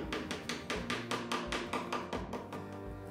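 Steady hammer taps peening rivets on a wooden canoe, about four per second in an even rhythm, close and crisp, with a short ringing after each strike.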